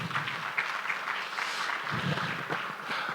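A crowd at a business expo keynote session claps for the Under Secretary, producing a steady, fairly loud wash of many hands that continues without a break.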